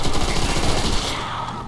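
An MG42 machine gun in Call of Duty: World at War zombies fires a continuous, loud, close stream of rapid shots with a fast rattling rhythm that runs the whole time.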